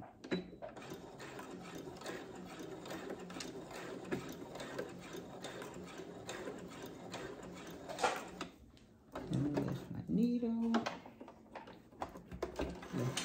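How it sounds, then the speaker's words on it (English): A Brother sewing machine back stitching, a steady rapid mechanical whirr of needle strokes running close, briefly pausing, then resuming with a short whine and more stitching. "right about here, I'm gonna go ahead and back stitch out"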